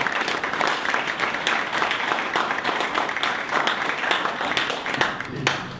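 An audience gives a round of applause welcoming a speaker at an LA2M meeting, steady, fairly loud clapping sustained throughout, with a few sharper claps standing out.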